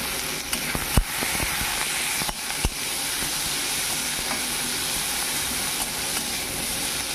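Onions hit hot oil in a pan and sizzle with a loud, steady frying hiss, punctuated by a few sharp crackles and pops near the start.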